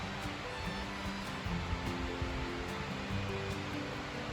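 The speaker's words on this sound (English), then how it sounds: "But there's a little bit of the waterfalls." Steady broadband rush of a waterfall on the Springer Mountain approach trail, a continuous even roar with no breaks, heard alone from a moderate distance.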